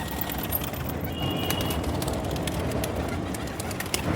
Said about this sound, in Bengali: দেখো পায়রাটা।